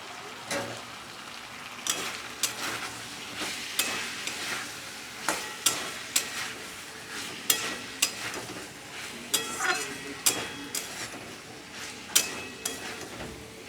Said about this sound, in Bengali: মশলা দিয়ে ছোলা দিয়ে ভালো করে কষিয়ে নিয়েছি